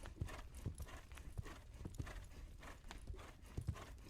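Horse hooves clip-clop at a brisk, steady pace on a ride toward a village, the repeated strikes fairly close and moderately loud with no voices over them.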